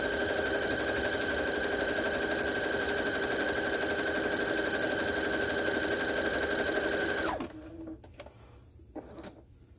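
A sewing machine runs a close, narrow zigzag stitch for applique at a 0.7 stitch length, giving a steady, loud mechanical whir that holds for about seven seconds and then stops, leaving quiet room sounds.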